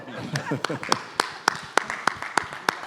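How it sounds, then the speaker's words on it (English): A few people clapping at a fintech panel discussion, sparse, evenly spaced single claps in a slow rhythm, beginning under a speaking voice and then continuing on their own. "That deserves a round of applause again"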